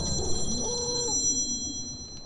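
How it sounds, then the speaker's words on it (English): A phone rings with a steady electronic tone, moderately loud and close, over a busy background of game sound during a fight in the survival game ARK. "And of course my phone would ring in the middle of that fight."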